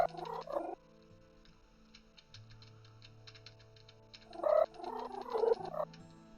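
A cat in the video game Uncle Chop's Rocket Shop purrs as it is petted, a low steady rumble with brief brighter bursts at the start and again near the end.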